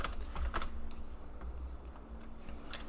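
Keys tapped on a computer keyboard while a command is entered on a Raspberry Pi, quiet scattered clicks in short irregular bursts with no talk.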